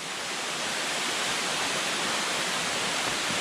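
Fikong Falls pours in a steady, dense roar of falling water, loud and continuous with no voices over it.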